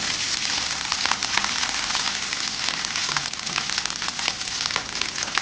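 A grated fresh coconut and spice mixture sizzles in a pan while being sautéed, a steady close crackle and hiss with no talk.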